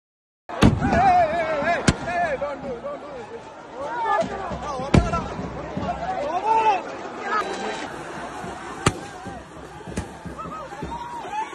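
Fireworks set off in a stadium before a football match, sharp scattered bangs over a noisy murmuring crowd with chatter throughout.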